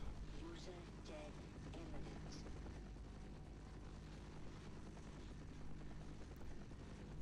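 A helicopter flies in the video game Half-Life, giving a faint, continuous rotor drone that holds steady throughout, with a voice talking over it.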